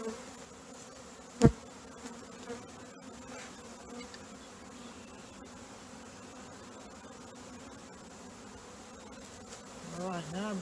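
Package honeybees buzz around a queen cage during hive installation, a steady close-up drone of many bees with one brief sharp knock early on and the buzzing swelling slightly near the end.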